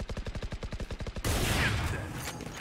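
Video game gunfire: a rapid automatic burst of evenly spaced, punchy shots, then a louder final blast trailing into a rough, noisy decay.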